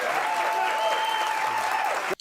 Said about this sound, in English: You might want to hold your applause, ladies and gentlemen.